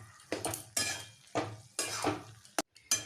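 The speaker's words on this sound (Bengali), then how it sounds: "এই গুড়ের মধ্যে নাড়াচাড়া করতে করতে কিছু কুলগুলোকে একটু ফাটিয়ে দিতে হবে।" Jujube plums being stirred in jaggery in a cooking pan: intermittent scraping and clinking of a spoon against the pan in several separate strokes, fairly close, with no talk.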